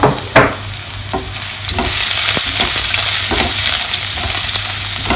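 Ginger and garlic stir-fried in a pan for a Kerala roast chicken, a steady sizzle running throughout with repeated scraping strokes of a spatula, close and fairly loud, no voices.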